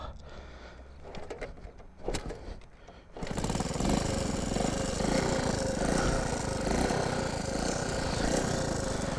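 A 50-year-old Honda C90 motorcycle engine catches after a kickstart: a few quiet knocks, then at about three seconds a loud, steady, close buzzing idle that runs to the end.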